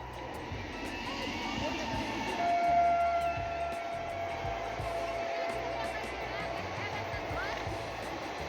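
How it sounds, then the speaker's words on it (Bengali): An approaching train makes a steady low rumble with a faint whistling hiss and gradually swells a little, while people talk quietly nearby. "ট্রেন আসতেছে।"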